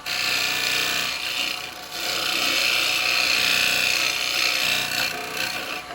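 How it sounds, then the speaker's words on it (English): A tenon and recess tool scrapes into a spinning cherry bowl blank on a wood lathe, a steady loud hissing rasp of cutting wood that dips briefly and then swells again, with no voices. "now I'm going to come in with my little tenon tool and recess tool"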